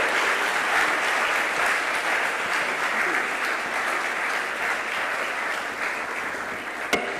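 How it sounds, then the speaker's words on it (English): A large audience applauds steadily to welcome a keynote speaker, the dense clapping holding at an even level throughout, with a sharp knock near the end. "Let the applause be better."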